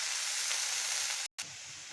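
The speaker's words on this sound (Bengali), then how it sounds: "এখন আমি পেঁয়াজ কুচি দিয়ে দিয়েছি হাফ কাপের মতন।" Chopped onion fries with chicken in mustard oil, a steady, close hiss and sizzle that briefly cuts out near the end before resuming, with no talk.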